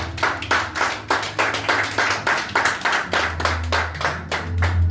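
A church congregation claps together in steady, rhythmic unison, loud and close, with a low hum of music or crowd underneath and no clear speech.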